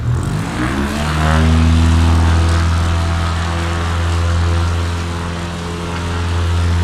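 A propeller plane engine in a New England bush-flying video game drones loud and steady, with stacked harmonic tones that rise as the throttle opens and then hold, swelling and easing slightly, with no talking over it.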